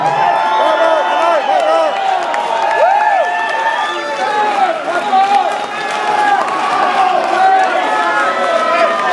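A large crowd at a Corrosion of Conformity rock concert in New York cheers and whoops loudly, shouts and voices layered over scattered clapping in a lively, sustained roar.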